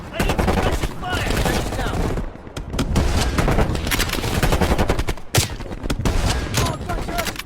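Dense, continuous automatic gunfire and overlapping shots fill a Call of Duty Black Ops Cold War firefight, loud and close, with brief lulls and sharp single cracks breaking the sustained rattle.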